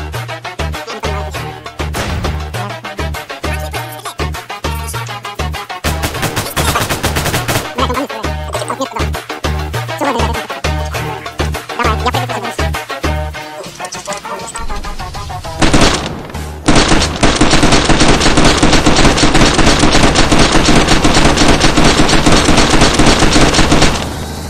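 Gunfire in DayZ: loud, rapid bursts of automatic shots crack in quick succession, then give way to a dense, sustained roar of noise in the second half.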